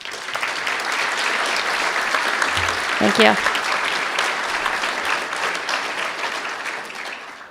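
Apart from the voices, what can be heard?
banquet audience applause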